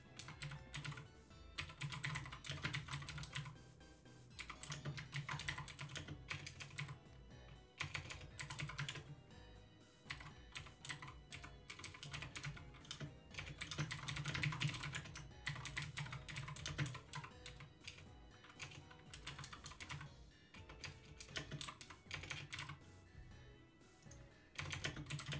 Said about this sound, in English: Maybe I can type them out here.